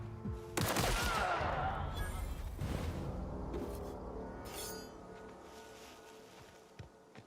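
Shotgun fire in The Outer Worlds video game, a sharp close blast with a long rolling, crackling tail, then a second burst and a dying rumble, with faint clatter afterward.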